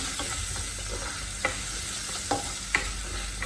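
Vegetables for chattichor, including ash gourd and yam, sizzle quietly in a pan as turmeric is stirred through them. A spoon scrapes and taps the pan in a few distinct knocks over a steady frying hiss.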